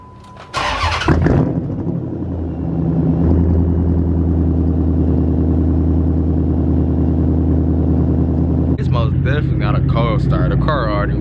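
An SRT8 Dodge Charger fires up with a sharp crank and catch, then settles into a deep, loud, steady idle rumble that continues until a person starts talking near the end.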